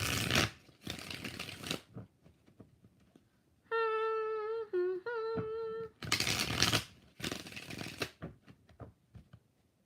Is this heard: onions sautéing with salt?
no